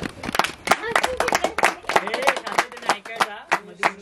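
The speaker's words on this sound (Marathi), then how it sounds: "वा, टाळ्या" An audience claps in applause at a gathering after a fort conservation outing, a dense run of close, uneven hand claps with voices mixed in throughout.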